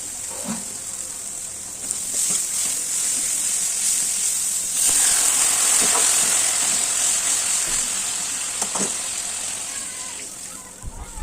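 Phesa fish curry with chopped coriander being stirred in a hot pan, a continuous bright sizzle and hiss with occasional scraping strokes, close and steady, with no talk over it.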